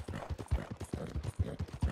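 Horse hooves clip-clopping in Red Dead Redemption 2, a steady rhythmic series of soft thuds at a trot, close and fairly quiet, with no talk over them.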